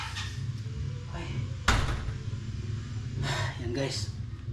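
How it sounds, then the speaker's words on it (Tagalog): A door swings shut with a single sharp thud partway through, heard over steady low background noise and occasional voices. "Tapos isara natin itong pinto."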